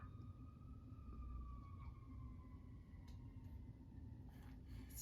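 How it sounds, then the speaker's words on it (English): Sirens wailing in the distance, faint rising and falling tones over a low steady background hum, with no talk. "It's fitting that the sirens are going on in the background"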